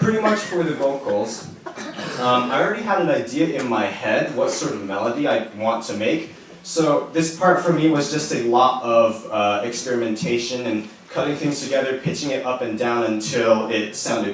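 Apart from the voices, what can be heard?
No everyday noises stand out.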